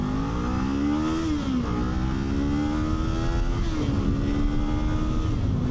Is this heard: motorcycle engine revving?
yes